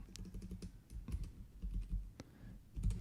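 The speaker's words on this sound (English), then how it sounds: "I need to type exactly the way I typed it here" Close, quiet typing on a computer keyboard, irregular bursts of key clicks with brief pauses, alone without talk.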